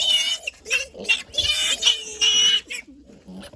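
Piglets fighting at a sow's teats in a fattening pen, a burst of close grunts and sharp squeals in quick irregular succession, mixed with short chirping sounds.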